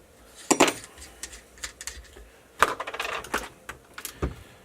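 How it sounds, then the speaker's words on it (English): Aluminum wheels being removed from a Losi 5ive-T RC car, with sharp metallic clinks and rattles in scattered bursts, close and clear, between quieter pauses and with no talking. "I'm going to start by taking off the wheels"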